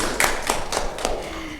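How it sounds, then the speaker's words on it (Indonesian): A school class claps for two students during a microteaching lesson, a short burst of about five sharp claps close to the listener. "Bagus sekali, beri tepuk tangan"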